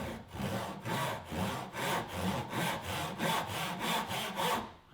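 Hand saw cutting a groove across a piece of wood, with about nine even, rasping push-and-pull strokes in a steady rhythm, close and clear with no talking.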